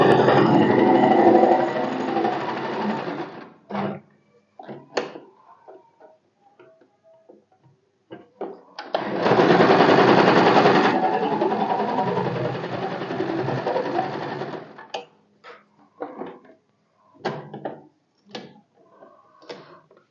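A sewing machine stitches tucks on a blouse in two loud, steady runs of rapid mechanical whirring, separated and followed by scattered clicks and handling taps of the fabric and machine.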